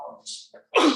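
A single sharp sneeze bursts out at the end, preceded by a brief quiet inhale and a soft voice in a calm yoga class setting.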